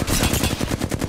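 Rapid automatic gunfire from a weapon in the video game Apex Legends, a loud, close, continuous burst of evenly spaced shots with no talking.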